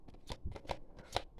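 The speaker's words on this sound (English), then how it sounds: "I like to shuffle on camera for you" Tarot cards shuffled by hand, close up, in a series of quick papery riffles and slaps, about five bursts over a second and a half with short pauses between, no voices.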